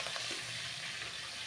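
Onions and curry leaves frying in a pan while being stirred, a soft, even hiss of sizzling oil that runs unbroken and faint, with no voices.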